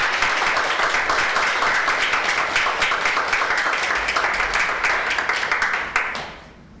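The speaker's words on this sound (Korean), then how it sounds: "나오실 때 웰컴 박수라고" Welcome applause from a church congregation at a Sunday service: a dense, steady crowd clapping sustained at full strength, then fading out at the end.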